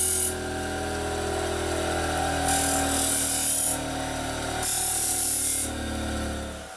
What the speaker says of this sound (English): carefully grind that